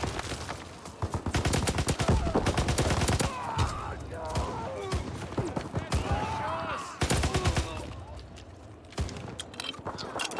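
Rapid bursts of shotgun gunfire in the video game Call of Duty WWII, during a zombie event. The shots are loud, sharp and clustered, with brief gaps between them over steady in-game background sound.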